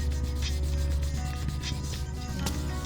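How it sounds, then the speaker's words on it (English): A finger rubs pencil graphite around on paper while shading a drawing of a window, making a steady, close, soft scuffing texture over a low background hum. "use the side of your pencil and throw some gray there. Rub that around with your finger."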